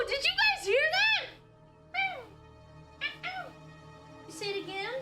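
A house cat meows several times up close, a long drawn-out call followed by shorter chirpy meows after pauses, loud and clear against a quiet room.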